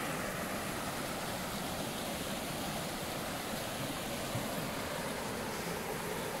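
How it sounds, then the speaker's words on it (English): Aira Force waterfall in the Lake District roars steadily from near its top, a dense, unbroken rush of falling water with no voices or other sounds over it. "So just at the top of Aira Force waterfalls."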